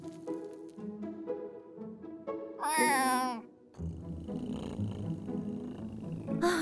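Cat meow from a magically transformed dog in a Barbie Dreamtopia cartoon, one short wavering mew rising out of background music and cartoon voices.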